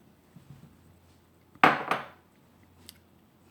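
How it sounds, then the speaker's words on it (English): Chilled buttermilk is stirred into biscuit dough in a bowl: two quick, bright clinks of a utensil against the bowl close together, then near silence. "I'm just going to mix that together"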